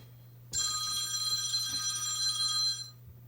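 A telephone rings loudly for over two seconds with a bright, buzzing electronic trill over a low steady hum, then cuts off, with no voices during the ring.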